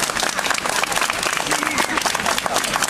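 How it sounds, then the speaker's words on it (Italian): A street show audience in a town square gives Santa Claus a big round of applause, loud dense clapping mixed with crowd noise and voices talking and calling out throughout. "per cominciare lo spettacolo mi serve un grandissimo applauso"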